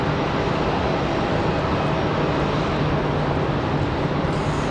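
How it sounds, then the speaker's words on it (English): Delta Airbus A320 engines spooling up at Raleigh-Durham International Airport, a dense steady whine and roar with a low hum underneath, constant in level and heard without voices. "A320 firing up down here for Delta."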